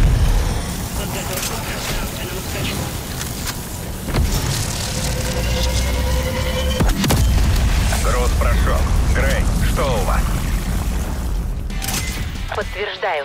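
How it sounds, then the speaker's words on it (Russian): A grenade blows up in Call of Duty: Black Ops Cold War with a loud, deep boom and rumbling debris around midway. Game noise and radio-style voices continue throughout. "Граната пошла!"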